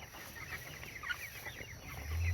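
Chickens on a Kentucky farm cluck softly and irregularly in the background, faint and scattered, with a low rumble rising at the end.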